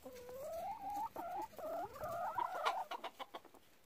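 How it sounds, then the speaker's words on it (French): A chicken in a farmyard clucks and makes drawn-out murmuring calls, faint and somewhat distant, breaking into short rapid clucks toward the end. "Bah oui, petit coq tout moche, hein?"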